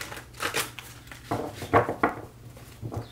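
Tarot cards are shuffled by hand in several quick, crisp riffles and taps, close and fairly loud, with short pauses between bursts and no talking.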